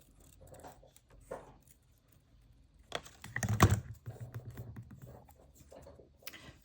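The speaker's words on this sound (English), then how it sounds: "I'm going to cut all around it" Paper is cut with scissors for a junk journal, giving quiet, soft snips and papery rustling in scattered bursts, with one denser, louder crunch partway through.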